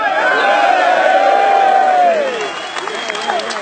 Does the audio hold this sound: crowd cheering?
yes